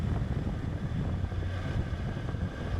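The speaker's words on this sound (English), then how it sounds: "Fair bit of wind coming in now to the helmet." Wind rushes steadily into a motorcycle helmet while riding on a street, a dense low buffeting roar with faint engine drone beneath, continuous and fairly quiet, no voices.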